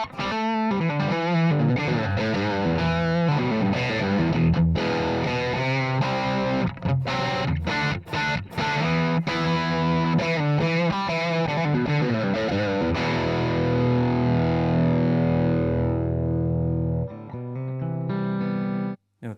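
A dense, heavily distorted electric guitar through a tube amp plays chords and riffs at steady loud volume, ending on a sustained ringing chord; no voices.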